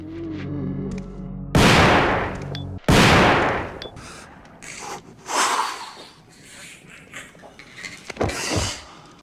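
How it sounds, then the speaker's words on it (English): Shotgun blasts from Resident Evil 2: two loud, sharp booming shots about a second apart, each with a long decaying tail, followed by quieter mechanical clacks and scattered impact noises. "This shotgun is hands down the best thing in RE2."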